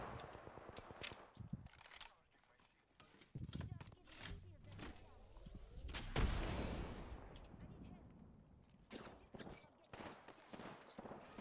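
Gunfire in the video game Apex Legends, rapid distant bursts and popping shots scattered through the stretch, with a louder blast-like swell midway, heard under game sounds and background noise.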